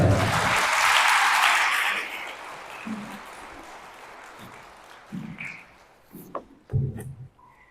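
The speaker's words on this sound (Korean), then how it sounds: "박수 한번 보내주세요." Audience applause at a church seminar lecture, loud at first and then fading away after about two seconds, followed by quiet with a few scattered voices and sounds.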